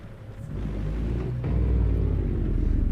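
A heavy Kenworth diesel truck engine in a truck-driving video game rumbles low and deepens into a rattling, pulsing engine brake drone, steady and close, with no voices.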